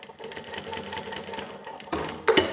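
Model 1903SX industrial walking foot sewing machine running in short stitching bursts, a steady mechanical clatter that builds louder toward the end, heard up close with no talking.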